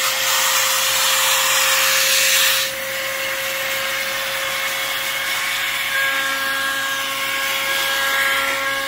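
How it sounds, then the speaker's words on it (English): A handheld 2-in-1 mini air duster and vacuum runs at its lowest level, giving a loud, steady motor whir with no talking; the roar eases slightly partway through, then holds constant. "I'm gonna show you guys how to clean the actual with the vacuum."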